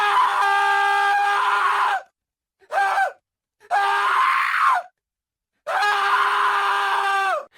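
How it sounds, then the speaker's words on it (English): A soldier screams in terror in the dark, four loud, strained cries in quick succession with short silent gaps between them, close and alone. "One of the soldiers, Private Jenkins, screamed."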